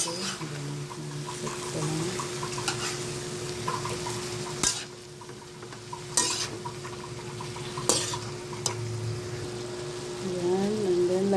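Mung bean sprouts stir-fried with tofu in a home kitchen pan, a steady sizzle broken by sharp metallic clanks and scrapes of a utensil against the pan, with a voice talking over parts of it.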